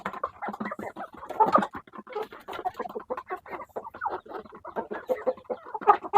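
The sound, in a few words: chickens and rooster clucking at feeding time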